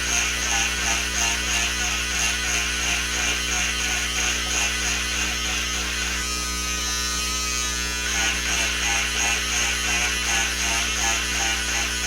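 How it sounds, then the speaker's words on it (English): A men's mustache or sideburn trimmer being used to sculpt indoor-outdoor carpet: a loud, continuous electric buzz with a steady hum, its pitch briefly changing as it presses into the pile, with no talking. "I'm doing it with a man's mustache trimmer or sideburn trimmer."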